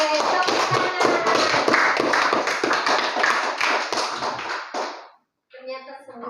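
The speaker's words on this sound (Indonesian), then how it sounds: "Oke, tepuk tangan." A classroom of children claps their hands in a teaching session, a rapid run of close, sharp claps mixed with chatter and voices, stopping abruptly before brief silence and then more talking.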